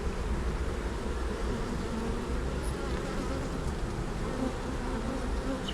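Honey bees buzz steadily around an open hive during an inspection, a dense continuous drone that fills the whole stretch with no talk.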